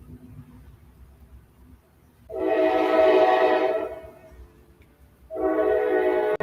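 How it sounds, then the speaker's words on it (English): A train passes nearby, sounding two long, loud horn blasts a few seconds apart over a low rumble of rolling wheels. "let this train go by right quick"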